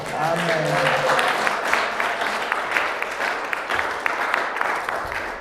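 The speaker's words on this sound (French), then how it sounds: "Acclamons pour le Seigneur." A church congregation applauding to praise the Lord, a dense sustained burst of clapping from a crowd filling the whole stretch, with a voice heard speaking briefly at the start.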